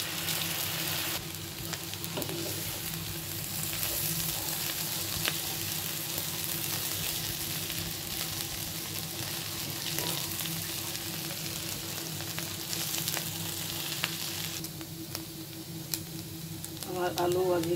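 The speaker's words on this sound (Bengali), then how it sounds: "এখন আমি আলুগুলো দিয়ে দিচ্ছি" Potatoes fry in a pan with fish roe, a steady, moderate sizzle running throughout with occasional soft stirring clicks, and a voice briefly heard near the end.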